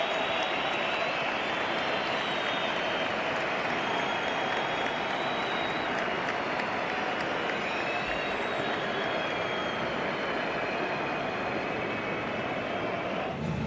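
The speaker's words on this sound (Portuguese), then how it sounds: "o momento do aplauso, da homenagem aí para Ronaldinho Gaúcho" A dense, loud stadium crowd roars and applauds without a break as Ronaldinho Gaúcho leaves the field late in a legends football match, forming a broad continuous wash of clapping and cheering.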